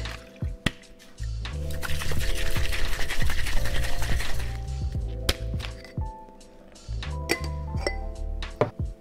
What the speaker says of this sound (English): So now given that you've got a whole egg, you wanna give it a dry shake first.